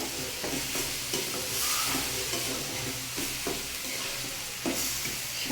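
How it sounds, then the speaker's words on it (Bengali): A spatula stirs salted mixed leafy greens in a pan. A soft, steady sizzle runs under repeated scraping and tossing strokes, close and fairly quiet, with no talking. "এখন এটা একটু নেড়ে ফেড়ে নেব"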